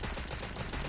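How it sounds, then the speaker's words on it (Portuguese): Rapid gunfire trades back and forth in the video game Cyber Hunter, a dense, continuous rattle of shots filling the whole second with no pauses and no voices. "Os caras estão trocando tiro aqui em cima"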